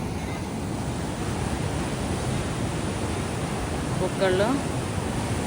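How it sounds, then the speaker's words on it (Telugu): Sea waves surging at Cocoa Beach, Florida, a steady broadband roar of surf with wind across the microphone, and a brief voice breaking in near the end. "సముద్రం ఆటు పోటుల మీద ఉంది, అసలు భలే పొంగుతుంది"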